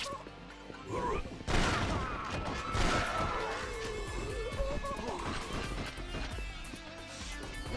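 Fast bursts of video game gunfire crack and thud through a dense, busy mix of impacts and crashes, loud and continuous throughout.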